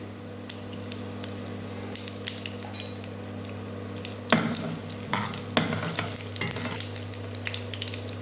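Chana dal, urad dal and mustard seeds frying in a small amount of oil, a steady soft sizzle with crackles and sharper pops and stirring scrapes growing busier midway through, close and moderately quiet with no talking.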